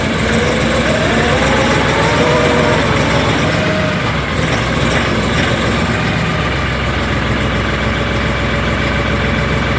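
LS XR3135 tractor engine running steadily in gear, a loud, continuous low rumble with an even idle throughout and no speech.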